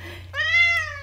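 A young cat, around 8 or 9 months old, lets out one short, clear, close meow that rises slightly and then falls. A faint low hum runs underneath, and no one speaks.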